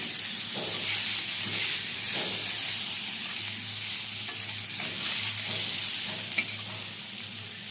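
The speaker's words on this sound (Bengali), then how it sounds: "এরপর আমি করছি হচ্ছে আলু ভাজা।" Potatoes fry in a hot pan with a continuous close sizzle and periodic stirring scrapes, steady and fairly loud throughout with no voices.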